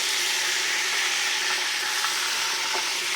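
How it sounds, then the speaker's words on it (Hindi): Boneless beef frying in a pot for haleem, a dense, steady sizzle with occasional faint clinks, close and continuous throughout. "इसको हमने खूब मज़ेदार भून लेना है।"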